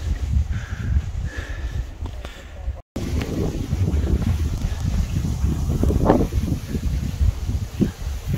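Gusty wind on an outdoor hill hiking trail in Changnyeong, Korea, roaring steadily against the microphone with low rumbling buffets, a brief dropout, then continuing strong with faint voices underneath.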